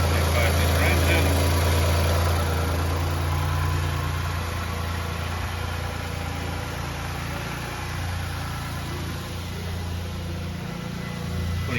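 The 3.5-liter engine of a 2018 Lexus RX350 idles steadily on test at a parts yard, a constant close low hum and rumble that holds even throughout.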